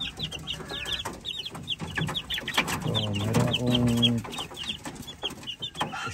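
Chickens at a backyard poultry farm cluck and chirp repeatedly, with a rooster-like call rising in the middle and steady fowl chatter all around.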